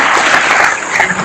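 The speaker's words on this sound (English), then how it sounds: "Let's give another round of applause." A forum audience gives a brief, loud round of applause, a dense burst of clapping lasting just over a second.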